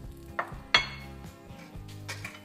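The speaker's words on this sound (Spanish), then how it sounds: "Ahora freímos el pimiento." Green pepper pieces going into a pan of hot oil in a Spanish kitchen where wild asparagus is being stewed, giving a couple of sharp clatters of utensils and pan, then a light sizzle with occasional stirring scrapes, close and alone.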